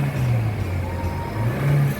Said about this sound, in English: So let's give it a few revs to kind of get that turbo spooling a little bit